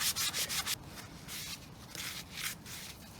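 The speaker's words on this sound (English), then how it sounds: "Conceding that I'm not going to finish scraping these back to their original finish in the next hour" Hand scraping of an old finish back to the original surface, a steady rasping rub in repeated strokes, up close and fairly quiet, with no talking.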